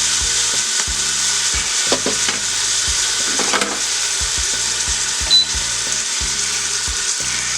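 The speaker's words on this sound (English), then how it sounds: "I'm putting these in here just to sear them off a little bit" Three pork chops sear in the hot pot of a Power Pressure Cooker XL, giving a steady, close sizzle and crackle with a few soft knocks and clatters of the meat being placed.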